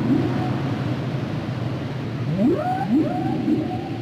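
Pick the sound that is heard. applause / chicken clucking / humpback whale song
humpback whale song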